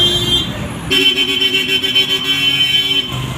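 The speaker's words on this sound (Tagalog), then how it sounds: "Medyo maingay na po siya. Naririnig nyo naman po yung mga busina." At a roadside bus stop, a vehicle horn sounds one long, loud blast of about two seconds, close by, set against steady traffic noise before and after.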